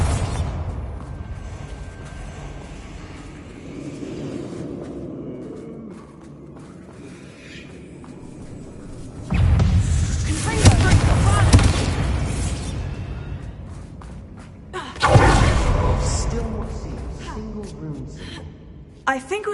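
Bombarda spell blasts in Hogwarts Legacy, with two loud, broad explosive bursts about five seconds apart that each decay slowly. Quieter spell effects and a voice can be heard earlier in the clip.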